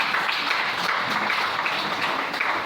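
Church congregation applauding the Lord together during a service, a steady wash of many hands clapping at moderate loudness for a few seconds, with no voices above it.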